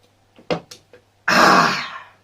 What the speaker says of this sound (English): I drank my Coke and clear my throat.